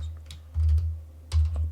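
Keys on a computer keyboard are tapped in two short bursts of quick, close clicks against a quiet room.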